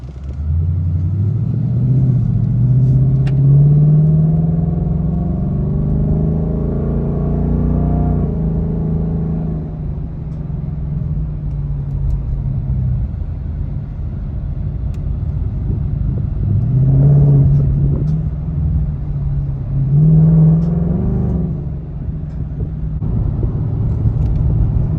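A 2022 Ford Mustang base model drives on the road with a steady engine rumble inside the cabin, the pitch rising and falling through several gentle accelerations and gear changes, with no talking.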